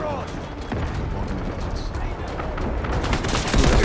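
Artillery barrage in a video game: a dense, continuous roll of booming and crackling gunfire that builds slightly toward the end, with voices mixed in underneath.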